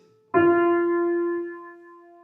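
A single steady musical tone starts abruptly and holds for about two seconds, then softens slightly, clear and alone.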